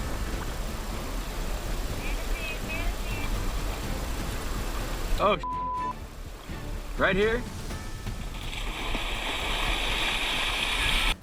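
Flood water rushes and churns steadily in a loud, continuous roar, overturning an old bridge, with a voice speaking over it.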